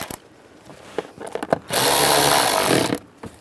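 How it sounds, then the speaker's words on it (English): A power tool tightening screws on the cabin air filter cover of a 2007-2013 Chevy Silverado, a few light clicks and taps, then one loud close whirring burst of about a second. "Now we'll tighten these down."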